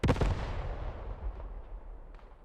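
Artillery fire in the Post Scriptum video game: a loud, booming blast up front with a long rumbling decay, and a faint secondary crack near the end.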